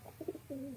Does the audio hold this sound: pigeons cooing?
yes